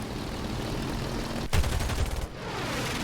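Nose-mounted 7.92mm machine guns on a Bf 109 in a flight combat video game fire one loud, rapid burst of about three-quarters of a second over steady engine drone, which continues after the burst.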